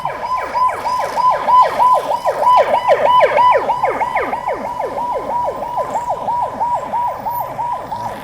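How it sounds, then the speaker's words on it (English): A wailing ambulance siren sweeps up and down in rapid repeated cycles, loud and steady throughout, with no voices. "Wow, one more ambulance."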